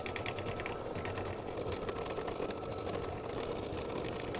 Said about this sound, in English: let it stitch the last color stop, and that is now going to seal the front and the back edges together